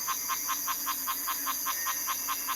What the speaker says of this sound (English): Muller's termite frog, you know, this little beautiful pancake.